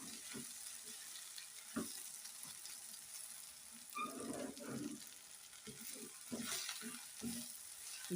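Gongura leaves and onions fry gently in a pan, a faint, steady sizzle broken by intermittent stirring scrapes and the occasional tap of a utensil against the pan.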